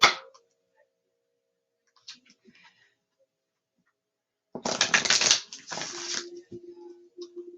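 A Crystal Oracle card deck is shuffled in one close, dense riffling burst of papery clicks lasting about two seconds, after a few faint scattered taps; no talking.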